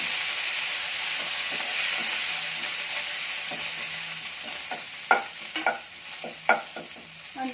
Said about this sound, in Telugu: అంతా వేసి పోపు పెట్టుకోవాలి.